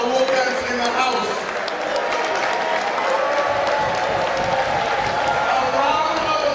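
A crowded hall bursts into sustained audience applause, dense steady clapping mixed with some cheering and crowd chatter that holds at an even, loud level throughout.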